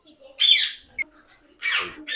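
Two loud, harsh squawks about a second apart from ringneck parrots being caught by hand, with a brief sharp click between them; no talking.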